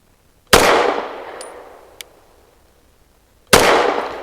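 Two loud, close pistol shots from an EAA Girsan Witness 2311S firing Hornady American Gunner 115 grain ammunition, spaced about three seconds apart, each with a sharp crack and short decaying ring and a faint metallic ping between.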